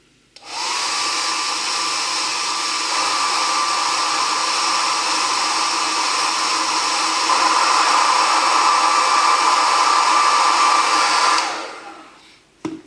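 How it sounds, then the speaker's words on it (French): A hair dryer blows steadily and loudly at close range for several seconds over a 1/24 scale Kenworth K-900 model kit, its whirring hum holding constant before switching off. "je repasse un petit coup de sèche-cheveux, attention aux oreilles."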